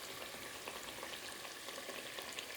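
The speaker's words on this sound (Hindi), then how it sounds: "अब इसके अंदर मैं ये दाल शामिल कर दूँगी और इस दाल को तकरीबन 2 मिनट फ्राई करूँगी।" Urad dal frying in spiced oil masala makes a soft, even hiss with fine crackles. It is fairly quiet and continuous, with no voice over it.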